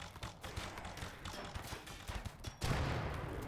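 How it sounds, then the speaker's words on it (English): A fireball spell in RimWorld sets off a rapid volley of multiple explosions, crackling bursts piling up densely and growing heavier toward the end, with no talk over them. "I didn't realize that it would have like multiple explosions like that"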